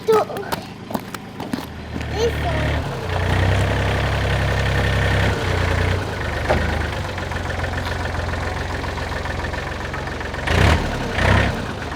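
A farm vehicle engine idles while warming up on a cold winter morning in southern France, a steady low rumble running throughout with a few louder bursts near the end, and people talking over it.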